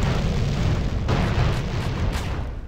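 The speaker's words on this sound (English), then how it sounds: "they're starting to explode before they even get close" Explosions boom in Grand Theft Auto: San Andreas, a loud, dense rumble of blasts that roll into one another with no break, with one sharper burst cutting through near the middle.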